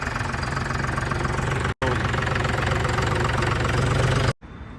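A Sonalika Arjun 605 tractor engine idles loudly and steadily with a knocking diesel throb, cutting out briefly partway through and dropping away at the end.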